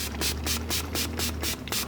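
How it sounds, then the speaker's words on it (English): Rapid spray bottle pumps of cleaner onto caiman crocodile leather boots, about eight quick bursts of hissing mist in an even rhythm, close by over a low steady hum. "You spray them really good."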